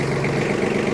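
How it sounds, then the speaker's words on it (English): A 2013 Kubota L3800 compact diesel tractor loader backhoe, rated at 38 horsepower, idles with a steady, close, low drone that stays even throughout the short moment. "I'm going to start this tractor up."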